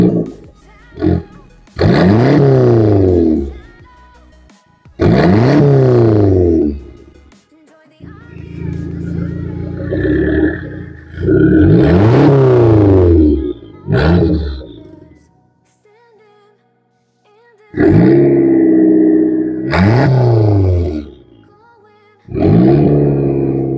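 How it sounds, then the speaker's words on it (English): A 580hp Mopar V8 revs repeatedly under an open hood, several loud throaty blips rising and falling with short idle gaps between them, close to the engine bay. "Let's give it a couple revs."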